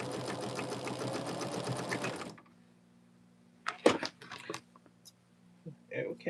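Sewing machine stitching a quilt block for a Contrary Wife pattern, running steadily for about two seconds and then stopping, followed by quiet handling clicks and rustles.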